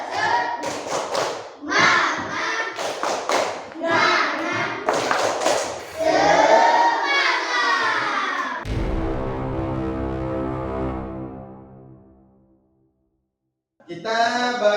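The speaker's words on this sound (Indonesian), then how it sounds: "Tepuk semangat dulu." Children do a rhythmic spirit clap in a classroom, with quick bursts of hand claps and thumps mixed with chanting voices, then a sustained sung tone fading to silence before more clapping starts.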